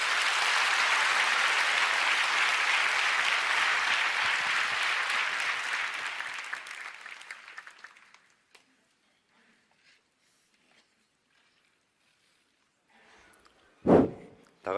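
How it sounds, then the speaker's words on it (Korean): A church congregation at a 2015 Daniel prayer meeting breaks into sustained applause to welcome the pastor; the clapping stays strong for several seconds, then thins out and fades into near silence before one sharp, isolated noise near the end. "우리 목사님 박수로 환영하면서 모시겠습니다"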